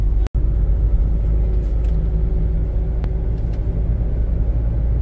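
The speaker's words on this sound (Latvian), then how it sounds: "redziet, cik daudz mašīnas" Many cars drive along a busy road near the beach, a continuous low rumble of traffic and engines close by, with one brief sharp knock near the start and no talking.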